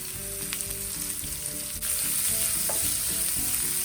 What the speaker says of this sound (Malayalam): ഒരു 2 മീഡിയം സവാള നന്നായിട്ട് വഴച്ചെടുക്കണം.